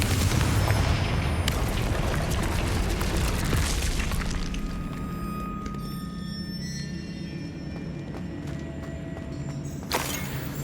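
A Confringo spell blast in Hogwarts Legacy, a loud booming explosion that hits hard at the start and then decays into a long rumbling tail, with a sharp burst returning near the end.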